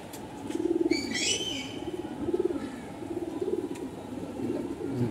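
A domestic pigeon, an army-line female bird, coos in a steady run of soft, low, rolling calls close by, with a brief higher chirp near the start and no talking.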